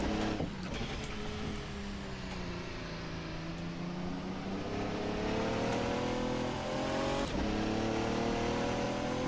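Radical RXC GT3 race car driven in rFactor 2, its engine holding a steady droning note with gear-change dips and rising pitch sweeps, loud and continuous throughout with no talk over it.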